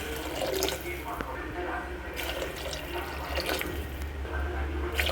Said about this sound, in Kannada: ನಾನಿಲ್ಲಿ 3 ಗ್ಲಾಸಷ್ಟು ನೀರು ಹಾಕ್ಕೊಂಡಿದ್ದೀನಿ